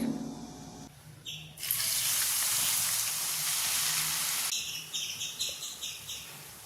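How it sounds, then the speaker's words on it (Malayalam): Onions frying in a pan, with a loud, steady sizzle that swells in after a few soft clicks, holds for several seconds, then drops back to a quieter crackle with high chirping tones. "അപ്പോൾ അതാ ഞാൻ ബാക്കി കൂടി ഇതുപോലെ ഒന്ന് ഫ്രൈ ആക്കിയിട്ട് എടുക്കുന്നുണ്ട്."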